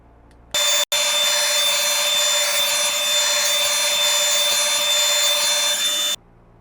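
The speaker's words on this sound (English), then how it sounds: "run this stuff through the sander and get everything nice and flat again" A power sander, likely a drum sander, flattens a wooden cutting board: a loud, steady mechanical roar with a high whine starts suddenly, dips for an instant, then runs continuously for over five seconds before stopping.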